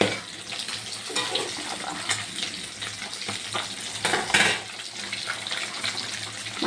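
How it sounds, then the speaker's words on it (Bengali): Fish fries in hot oil in a home kitchen, a continuous crackling sizzle with uneven bursts and spits, fairly close, with some stirring and watery clatter mixed in and no talk. "এদিকে মাছ ভাজা হচ্ছে"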